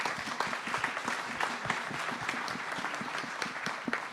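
An event audience gives a quick round of applause for a company staff team: moderately loud, continuous clapping from a crowd with clear individual hand claps, steady throughout about four seconds.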